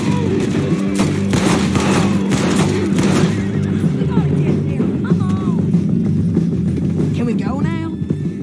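Gunfire rings out in Red Dead Redemption 2 as a rapid volley of close shots, with hooves and game noise running beneath and voices talking over the burst.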